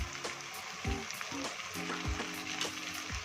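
Chopped tomatoes land in hot oil with onions already fried, setting off a loud, steady sizzle with a few bright spatters and spoon scrapes against the pan; no one talks.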